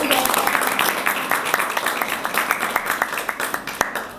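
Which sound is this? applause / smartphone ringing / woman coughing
applause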